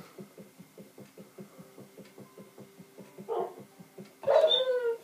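A dog in Minecraft whimpers and yips in a quick repeating rhythm of short soft cries, then lets out a louder, longer whine near the end, close and without talk.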